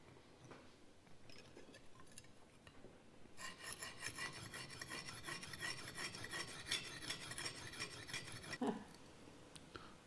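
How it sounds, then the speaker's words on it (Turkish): A steel knife blade is sharpened on a coarse-grit stone, producing a near, steady rasping scrape in continuous strokes after a few quieter scrapes and pauses at the start. "Bütün ağzı aynı açıya gelene kadar daha kalın gridlerle açacağız."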